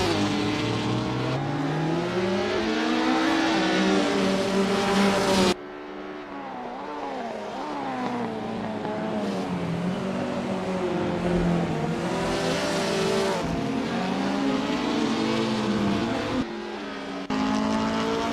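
Classic touring cars race around the Magione circuit in Assetto Corsa, engines droning and revving loudly and steadily, with pitch sweeps through gear changes and a car passing close by.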